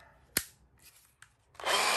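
A Bosch GBH18V-26D brushless 18V cordless rotary hammer drill, made in Germany, gives a sharp click and a few faint knocks, then spins up into a loud, steady, close whirring grind for the final half second.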